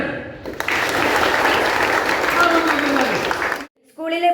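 An audience claps at a school literary club event, with a steady burst of applause lasting about three seconds that stops abruptly, followed by a brief voice.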